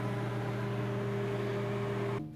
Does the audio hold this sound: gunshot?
no